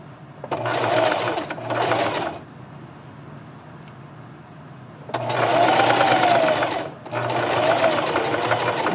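A sewing machine stitching a scrub cap runs in two pairs of short bursts, each lasting about a second or two, with a quiet pause between the pairs; the motor whir is close and steady during each run.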